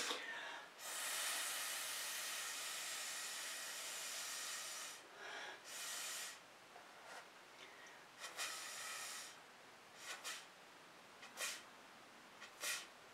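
Breathy bursts of air blown through a straw to push fluid acrylic paint across a canvas, starting with one long steady blow and then breaking into shorter, irregular puffs, close and fairly loud.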